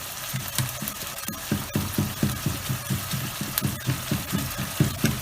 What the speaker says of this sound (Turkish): Bir yandan da patateslerimi kızartıyorum.